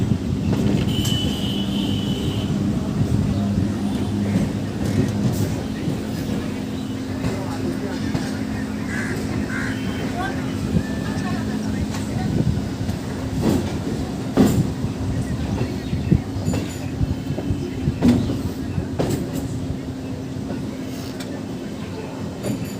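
A local train on the Sealdah to Canning line pulls slowly out of the station, a steady low rumble with scattered clanks and rattles of the carriages throughout, and a voice speaks intermittently over the noise.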